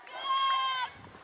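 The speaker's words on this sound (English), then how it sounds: "Well, you can hear the cranes in the background." A crane calls once during a softball game, a single drawn-out, nasal, harmonic bleat lasting under a second, moderately loud over faint outdoor background noise.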